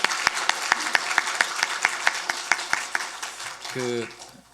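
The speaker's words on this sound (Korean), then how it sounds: "박수로 한번 격려하면 좋겠습니다." At a Sunday church service, a congregation claps to encourage a special song, a quick run of fairly sharp, evenly spaced claps that fade out, followed by a brief voice.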